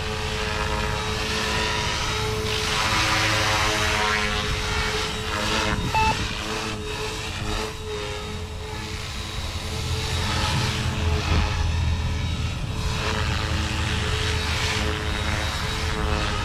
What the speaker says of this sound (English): I love this little helicopter.